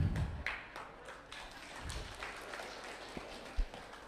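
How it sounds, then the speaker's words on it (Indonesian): An audience claps steadily at a religious study gathering, a dense patter of many hands sustained for about four seconds, with a few louder individual claps standing out. "Kenapa tepuk tangan?"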